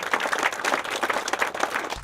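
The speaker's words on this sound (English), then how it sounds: "So would you give him a round of applause?" An outdoor crowd at an airport control tower groundbreaking ceremony applauds, a steady patter of many hands clapping at moderate loudness without speech.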